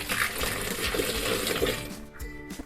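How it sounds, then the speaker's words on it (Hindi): Water is poured into the tub of an LG washing machine for cleaning, making a steady rushing, splashing gush that stays loud and close, then stops abruptly near the end. "पहले मैं यहाँ पर पानी डाल के इसको क्लीन कर देती हूँ थोड़ा।"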